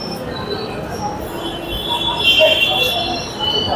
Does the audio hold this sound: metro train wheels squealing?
yes